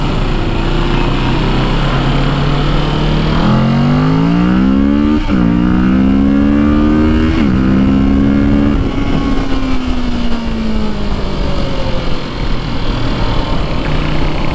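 A Kawasaki 650 motorcycle on a demo ride, its engine running loud and steady and revving up through gears in rising, falling pitch sweeps with a brief drop before settling into a sustained drone.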